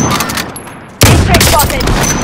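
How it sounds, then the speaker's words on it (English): Video game gunfire erupts suddenly into a loud, sustained burst of rapid shots after a brief quieter stretch, with a voice talking over it. "I'm getting shot."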